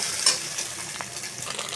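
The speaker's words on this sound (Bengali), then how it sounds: "নেড়ে চেড়ে ভেঙে দিয়ে দেবো একটু স্বাদ মতো লবণ।" Eggs with salt are stirred and broken up as they fry in a pan while making pasta; a close, continuous sizzle with light scraping of the spatula runs throughout, with no talking.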